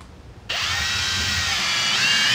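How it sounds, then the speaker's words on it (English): A Kobalt 24-volt cordless drill starts up abruptly and drives a 1 1/4 inch wood screw into wood. The close, whining motor holds a steady pitch for about two seconds. "So let's just start by putting in a couple of 1 1/4 inch wood screws."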